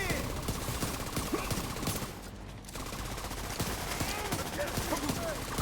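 Pistol gunfire in The Division 2, a dense run of repeated shots over a steady noisy combat backdrop, with a brief lull partway through.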